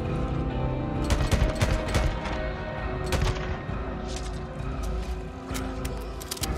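Gunfire in the video game Days Gone, rapid bursts of loud close shots cracking over a dense, rumbling battle bed, repeated volleys across the whole stretch with no one talking.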